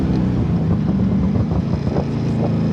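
Chevrolet C2 Corvette restomod from 1965 with a modern engine, running loud and close with a steady rumbling exhaust drone and wind rush, no distinct pops or bangs standing out.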